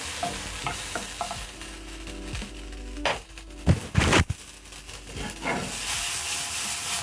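Cherry tomatoes fry with spices in a pan, giving a continuous sizzle with a few sharp bursts of stirring and shaking midway.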